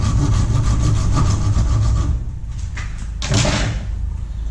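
A hand saw cuts a notch in wood held in a vise, with rapid, steady rasping strokes for about two seconds, then quieter scrapes and one final stroke, close and clear.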